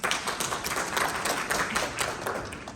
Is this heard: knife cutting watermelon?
no